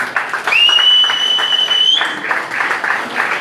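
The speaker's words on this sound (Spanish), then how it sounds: "Siéntese mientras da un aplauso al Señor." A church congregation applauds the Lord with steady, rhythmic clapping under a brief sustained electronic tone, with voices mixed into the clapping throughout.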